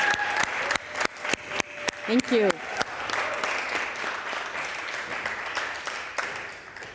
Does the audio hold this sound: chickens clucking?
no